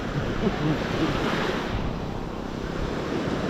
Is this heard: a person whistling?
no